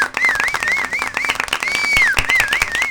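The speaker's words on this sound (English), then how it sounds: "can we get a round of applause?" Studio-style applause with sharp, close claps layered under a wavering whistle-like tone, steady and loud across the whole moment.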